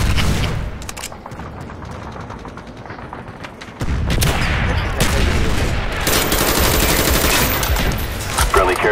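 A friendly mortar strike in Call of Duty Black Ops on a new map pack: heavy gunfire and booming impacts, quieter at first, then a sudden loud burst of dense, rattling explosions.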